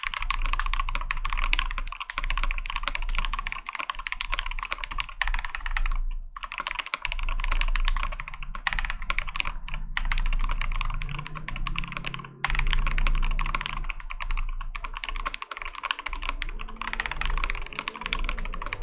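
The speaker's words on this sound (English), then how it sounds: "Here's a small typing test I did when I initially unboxed it." Sustained steady typing on a freshly unboxed DrunkDeer G75 mechanical keyboard, a long unbroken stream of close, even clacks with only the odd momentary pause and no speech.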